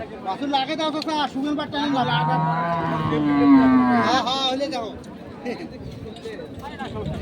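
At a rural cattle market, dairy cows and calves of improved breeds let out a long, loud, close moo that swells midway and fades, amid surrounding crowd chatter and talking voices.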